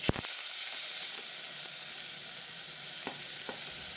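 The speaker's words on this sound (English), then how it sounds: "That is corn oil. So I'm going to add my chopped onions." Chopped onions fry in corn oil for a tomato sauce, a steady close broadband sizzle with a few sharp clicks and scrapes of stirring and a sputter at the start.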